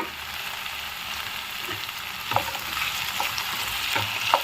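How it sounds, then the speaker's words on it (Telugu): Chopped capsicum frying in a pan for a capsicum and potato curry, a steady hissing sizzle with occasional soft spatula taps and scrapes, close with no voices. "క్యాప్సికమ్ కూడా కొంచెం ఫ్రై అవ్వనిద్దాము."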